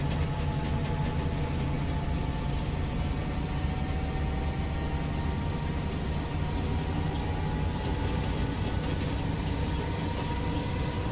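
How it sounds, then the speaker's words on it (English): A BNSF freight train on Cajon Pass in Train Simulator 2020 begins to roll, a dense steady rumble and hiss of diesel engine and railcars with a faint rising whine, constant and loud throughout. "So, pedal to the metal, and we will get rolling here with this train"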